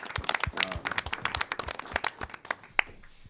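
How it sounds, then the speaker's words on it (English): An audience claps and applauds after a screening of short films, a brisk burst of hand claps that thins out toward the end. "one round of applause for all the films that we just"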